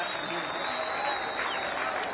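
An outdoor crowd at a celebration in Brussels applauds warmly after an aircraft flyover, a dense, continuous clapping that holds steady, with a faint whistle-like tone drifting through.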